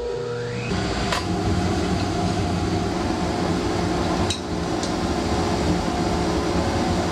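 Oneida dust collector switching on and running, a loud, steady broadband roar and hum that holds constant after a brief start, with a couple of faint clanks, nearby and without talking.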